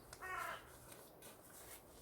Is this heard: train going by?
no